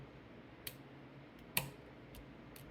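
Small sharp metallic ticks from a lock pick slipping off a pin inside an ASSA lock, a few isolated clicks spaced apart in a quiet room, one louder than the rest.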